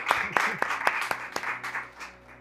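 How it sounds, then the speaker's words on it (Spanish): An audience claps in welcome for a speaker at a talk, giving a short burst of scattered, moderately loud applause that thins out and fades over a couple of seconds. "Le damos un fuerte aplauso y una calurosa bienvenida a Daniel Cantó"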